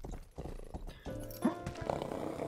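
A horse in the video game Rustler neighs and gallops, hooves clopping against a busy game-like background, fairly loud and close.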